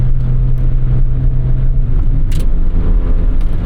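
A 1992 Mazda MX-5 Miata NA engine hums loud and steady from the cabin while driving, a low sustained drone with faint clicks and brief hiss bursts, and no one speaking.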